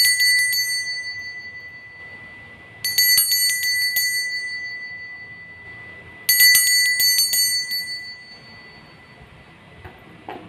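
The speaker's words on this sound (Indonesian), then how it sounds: "Kita akan memulai dengan ditandai lonceng berbunyi." A bright bell rings three times, each strike leaving a long, shimmering decay over a quiet room background, with a few seconds between strikes.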